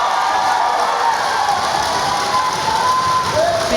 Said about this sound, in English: Lots for them to cheer about.